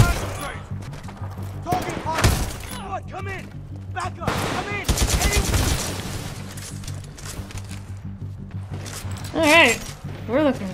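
Rapid bursts of gunfire and small explosions in the Titanfall video game, loud and close, overlapping with excited voices talking throughout.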